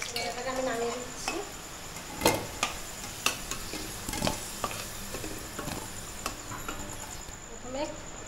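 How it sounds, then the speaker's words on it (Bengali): Potato pieces lightly frying in hot oil for a Bengali chicken liver dish, a soft continuous sizzle punctuated by clinks and scrapes of a utensil against the pan, with a voice talking faintly at moments. "এখন আলুটা একটু হালকা ভেজে নেবো।"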